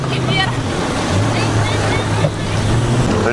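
A jet ski's engine hums steadily out on open water, a continuous low motor drone mixed with splashing and wind buffeting the microphone.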